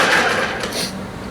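4B pencil being sharpened, a close, continuous scraping and rasping that fades slightly toward the end.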